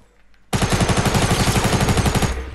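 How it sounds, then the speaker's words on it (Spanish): A shotgun in Fortnite fires a rapid, loud burst of blasts that starts abruptly and runs for about two seconds before cutting off, close and dominant, with no voices. "Esta escopeta, chavales, es la mejor que hemos visto en el juego"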